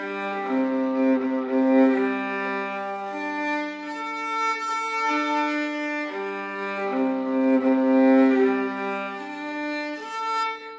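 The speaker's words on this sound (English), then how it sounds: "that exercise I kind of call waterfalls because it's good for getting this going, which is a nice smooth string crossing" A viola bowed in a smooth waterfall exercise, crossing strings in a flowing, connected pattern of sustained notes with a full, even tone throughout, played alone.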